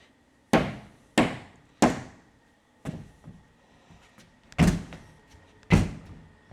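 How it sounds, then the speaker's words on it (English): A hammer strikes framing lumber in six sharp, solid knocks, spaced unevenly with short pauses between them, close by and clear in a quiet room. "you might have to take a hammer and just tap it a little bit"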